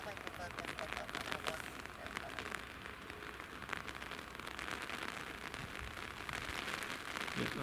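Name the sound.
heavy rain at Edinburgh Airport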